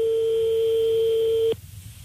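A telephone busy signal sounds as one steady, clear tone for about a second and a half, then stops abruptly, leaving faint room noise.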